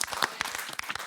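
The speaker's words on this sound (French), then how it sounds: "Je pense qu'on peut applaudir Nawaz No Bucks" Studio audience applauding a guest, Nawaz Noorbux, on a talk show, a short burst of close, crisp individual hand claps at an uneven rhythm.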